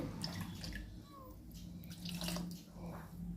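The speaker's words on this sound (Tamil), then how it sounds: "அந்த மிக்சியை கொஞ்சமாக தண்ணி ஊற்றி கழுவுனா போதும்" Water splashes and swirls as a mixer grinder jar is rinsed with a little water after grinding batter for millet adai, a steady wet sloshing close by with faint kitchen background.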